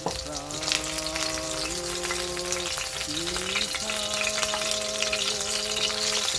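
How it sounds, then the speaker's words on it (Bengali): Aar fish frying lightly in a pan gives a steady, close sizzle that runs without a break, with a tonal melody playing underneath. "মাছটা অবশ্যই একটু হালকা করে ভাজতে হবে"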